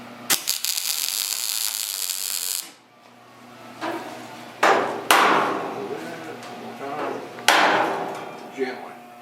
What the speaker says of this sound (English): And there's still some bumps in here.